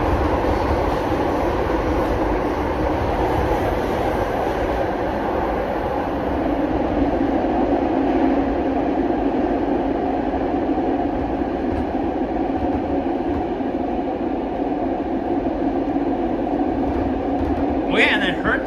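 A Line 5 Eglinton Crosstown LRT train riding between Mount Dennis and the next stop in Toronto, a steady loud interior rumble and rolling drone throughout, with faint clicks near the end.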